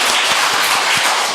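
A church congregation claps hands together in an irregular burst of overlapping claps, fairly loud and close, with no talking over it.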